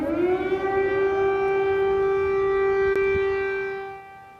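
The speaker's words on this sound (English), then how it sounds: "the wail of air raid sirens echoed through the streets of the capital" An air raid siren in Kyiv holds a long, steady wailing tone, loud and continuous, echoing through the streets, then begins to fade near the end.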